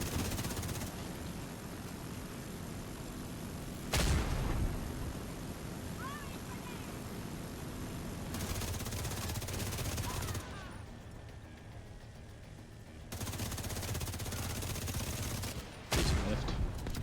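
Heavy gunfire in The Division 2: repeated loud volleys of rapid automatic shots with sharp individual reports, separated by quieter stretches, one lull nearly silent before the shooting resumes.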